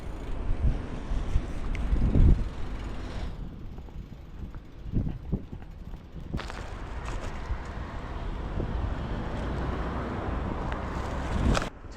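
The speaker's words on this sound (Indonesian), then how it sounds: "Nah hujan di Jepang tuh kayak gini guys" Steady rain falls in the rural Japanese countryside as a continuous broadband hiss, with a few louder gusts and bumps rising briefly above the wash.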